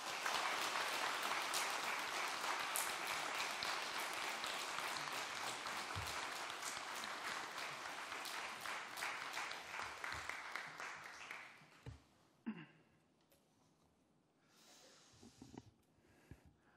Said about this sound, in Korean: 따뜻한 환영의 박수로 맞이해 주시면 감사하겠습니다